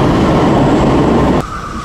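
Milan metro train running, a loud steady rumble and rushing roar that drops off abruptly near the end, leaving a quieter hum with a tonal whine.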